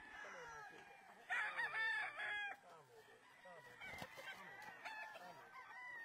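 Fighting cocks at a Mexican ranch cluck and crow close by, with one loud crow rising mid-clip over a background of softer clucks and faint farmyard noise.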